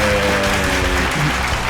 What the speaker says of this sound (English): Give them all a round of applause one more time,